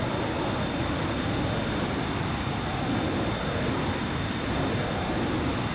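An aircraft in ArmA 3 flies with a steady, unbroken engine roar and rushing wind, loud and constant throughout, with no talking.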